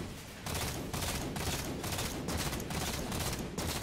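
Rapid automatic assault rifle fire from the Halo 4 video game, a loud, dense stream of shots in sustained bursts separated by very short breaks, close and continuous for the whole stretch.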